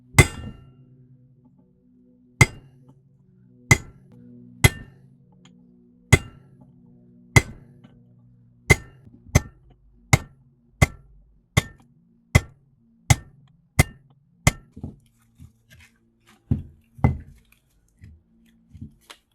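A hammer drives a cold chisel along the welds of a scrapped transformer box, about eighteen sharp ringing metallic strikes in a steady, uneven rhythm, loud and close with no talk.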